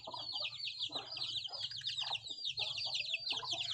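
Young chicks on a farm peep continuously while being handled, a dense run of high, rapid cheeps close by with soft rustling beneath, no talk.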